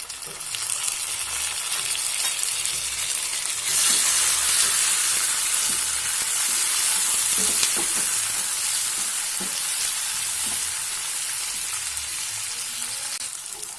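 Tomatoes hiss and sizzle in a hot pan for sabudana susla, a steady close frying noise broken by the scrape and clink of a spoon stirring at irregular intervals.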